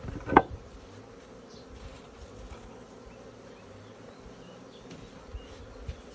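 Honey bees hum steadily around a hive during the merging of two swarms, a low continuous buzz close by, broken near the start by a sharp knock and later by faint handling noises.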